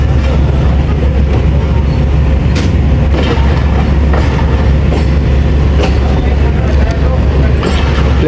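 Train running on the Gujrat to Attock line, a loud, close, continuous rumble of wheels on rails with faint rhythmic clatter throughout.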